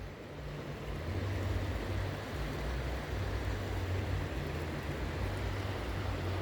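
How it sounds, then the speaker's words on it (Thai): River water flowing at an island in Savannakhet province, a steady, dense rushing wash heard close and continuous, with a low hum underneath. "อันนี้เป็นน้ำไหลพี่น้อง"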